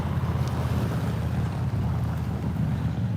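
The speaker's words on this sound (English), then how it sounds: "You can hear those waves." Ocean waves wash onto a beach in a steady low rushing roar with wind buffeting the microphone, continuous and fairly close.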